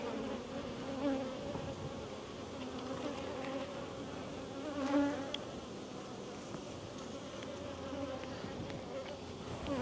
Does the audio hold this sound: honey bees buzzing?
yes